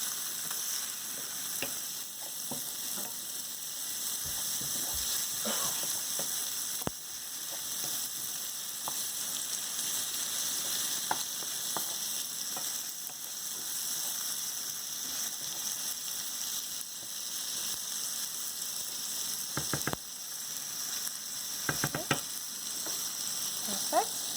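Chana dal with tomato sizzles and fries in hot oil in a pan, a steady, dense crackling hiss that runs throughout, close and fairly loud, with occasional stirring clicks and no talk.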